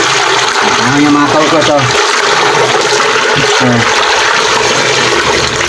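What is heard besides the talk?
water rushing through toilet bowl to wash away cement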